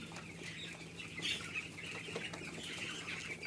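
Thirteen-day-old broiler chicks feeding together in a poultry shed, a steady wash of soft chirps and pecking with a faint mechanical hum underneath, moderately close and continuous.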